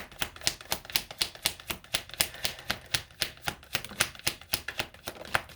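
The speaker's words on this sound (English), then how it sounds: "let me get a good shuffle in" A tarot deck shuffled by hand, giving a steady run of crisp, close card snaps and flicks, about three a second for several seconds, with no talking.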